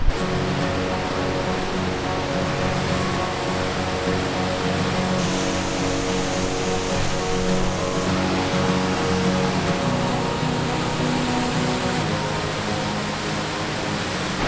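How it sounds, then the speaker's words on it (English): A loud winter waterfall near Cleveland, Ohio, partly frozen with snow and slush around it, roars as a steady, dense rush of falling water that stays close and constant throughout with no talk. "We're walking away from the falls now. It was very loud"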